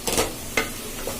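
Mashed boiled potato being stirred into sautéed vegetables in a pan for a bread veg sandwich filling: a few short scraping, sizzling strokes close up, loud and alone.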